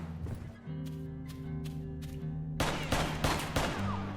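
Pistol shots in the game West of Dead, a quick series of sharp cracks fired over a steady droning music bed, growing denser toward the end.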